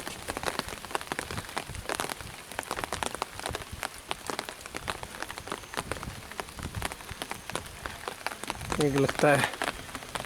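Steady rain falls on a hill-station trip around Kausani, Uttarakhand, a continuous wash of drops on surfaces with a speaking voice over it and a brief louder patch near the end.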